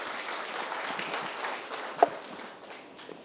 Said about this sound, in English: Can we have a round of applause for the lady?